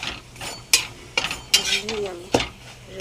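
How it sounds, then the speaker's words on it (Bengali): A rolled paratha going into a kadai to fry, with close sharp clinks and scrapes of a utensil against the pan and a faint sizzle in between, irregular and brief. "পরোটাটা বেলা হয়ে গেছে, এবার আমি কড়াতে দেব"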